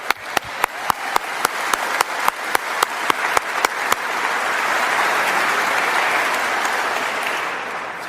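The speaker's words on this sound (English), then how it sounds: "Let's give a round of applause for that." At a clean energy deal signing with the German chancellor and the Canadian prime minister in Stephenville, sharp, evenly spaced clicks come first, then a full audience breaks into sustained, loud applause.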